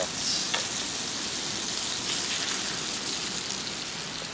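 Steady, crackling sizzle of eggs frying in a hot pan, continuous and close, with a dense hiss throughout.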